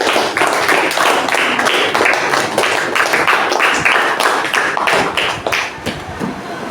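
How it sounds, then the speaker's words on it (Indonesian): Schoolchildren in an Islamic religious education classroom clap together after a prayer is led, a dense, fast patter of many small hands sounding near and loud for several seconds with no talk over it. "Tepuk tangan dong buat Tiana."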